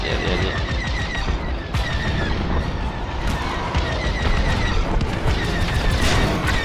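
Dense, continuous rapid-fire blasts of laser cannon fire with booming impacts, loud and unbroken throughout, like an intense space battle in the game Star Wars: Squadrons.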